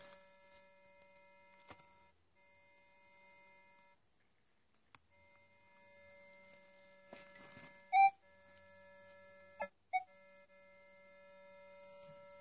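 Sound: metal detector beeping over buried target

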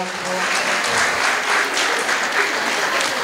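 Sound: audience applause

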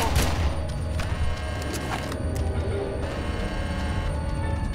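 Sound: gunfire from the video game Red Faction

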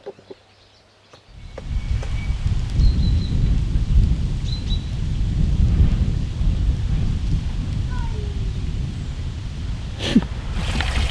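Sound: poplar leaves rustling in wind

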